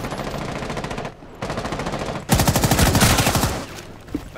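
Rapid automatic gunfire in Rainbow Six Siege on the Bank map, a sustained burst, a short pause, then a louder, denser stream of shots, close and dominant with no voices.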